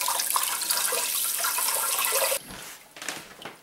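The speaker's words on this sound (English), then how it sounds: "just run some cold water over them" Cold tap water runs steadily over frozen food in a kitchen sink, a loud continuous splashing that stops abruptly, leaving faint drips and gurgles.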